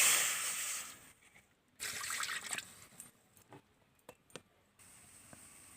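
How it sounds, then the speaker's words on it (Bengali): Water poured into a pan or bowl to start a sugar syrup for semolina gulab jamun, a bright steady stream for about a second, then a second short pour followed by scattered drips and small clinks. "চিনি শিরা তৈরি করার জন্য এই বাটি 2 বাটি আমি জল দিয়ে দিচ্ছি"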